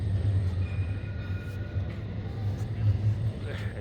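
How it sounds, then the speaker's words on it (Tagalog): A low, steady rumble of a train rolling past near Puerta Jerez, with faint higher squeals and rattles over the continuous drone. "Daanan po kasi ito dito ng tren."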